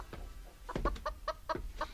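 Several soft, repeated clucks from a chicken, fairly quiet and nearby, coming in a loose irregular rhythm.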